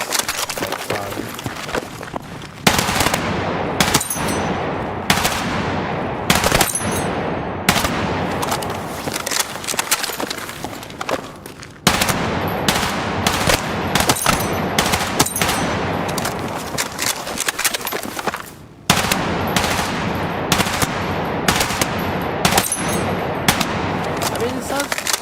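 Machine gun fire from a Battlefield video game played at maximum volume: loud rapid bursts rattle in quick succession, broken by brief pauses, and the firing continues almost nonstop.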